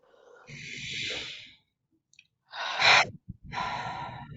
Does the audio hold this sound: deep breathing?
yes